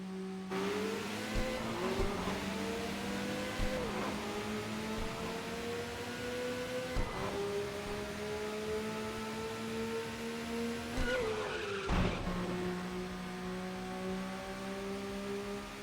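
A car in a racing video game drives hard with a steady engine drone that rises through repeated gear shifts, and there are occasional tire squeals and skids. The sound is continuous and moderately loud, with no talking.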